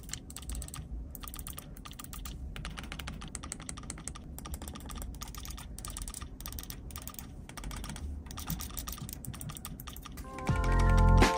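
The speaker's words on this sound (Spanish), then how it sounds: "Ese pequeño sonido de clic de cada uno de los botones mecánicos" Rapid, crisp mechanical clicks of Mobapad M6 HD controller buttons being pressed in quick succession, close up, ending in a louder thump.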